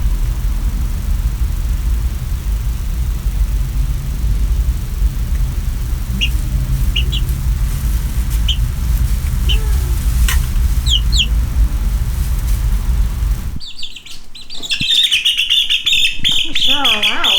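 Backyard chickens, including a Dorking, give scattered clucks and short squawks over a steady rumble inside a coop, followed by louder, closer agitated squawking near the end.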